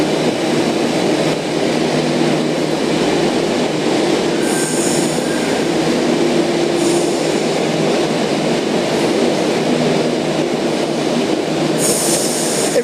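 A Sydney Trains passenger train leading a service into platform 2 for Kiama, a steady loud rumble of rolling wheels with intermittent high wheel squeals as it pulls into the station.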